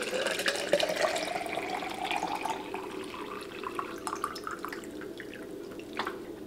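Water runs and trickles into the water tank of a Nespresso machine being filled for cleaning, a gentle splashing flow with rising pitch as the tank fills, heard close.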